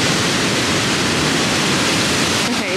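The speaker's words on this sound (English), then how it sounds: "just admiring this freaking waterfall" A waterfall in Hilo, Hawaii roars loud and steady from start to finish as a dense, unbroken rush of falling water close by.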